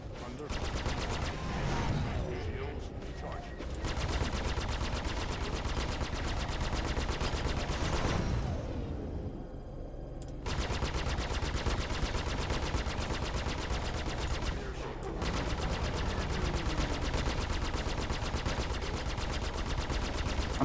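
Rapid automatic gunfire from the Star Citizen space game, loud and continuous in long sustained bursts with a brief lull near the middle, hammering at the player's ship.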